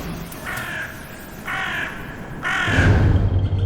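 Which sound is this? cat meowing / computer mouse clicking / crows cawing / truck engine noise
crows cawing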